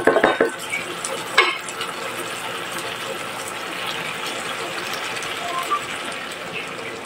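Bitter gourd (ampalaya) tossed into a pan of stir-frying pork belly: a brief clatter and sizzle at the start, then a steady soft frying hiss with occasional stirring scrapes, close and moderate in level.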